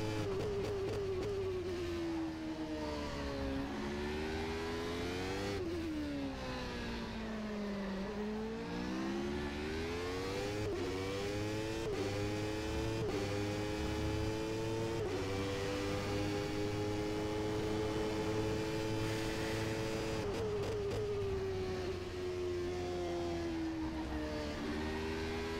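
A McLaren race car engine in rFactor 2 holds a steady, loud whine throughout, its pitch climbing and dipping with shifts and corners, with no one speaking over it.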